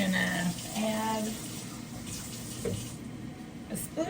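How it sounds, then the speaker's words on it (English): Tap water running into a bowl or sink while cooking a breakfast egg scramble, a steady broadband splashing wash under faint kitchen sounds and brief voice. "a sploosh of water, which is going to extend my mixture for the eggs"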